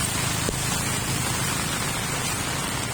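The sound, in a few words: rain falling during flooding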